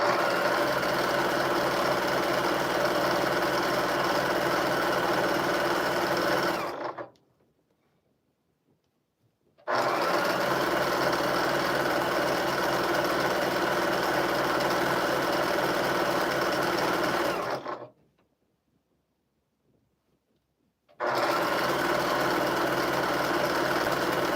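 Sewing sounds from a farm video game come in two long, steady, buzzing runs, each stopping abruptly into silence before starting again.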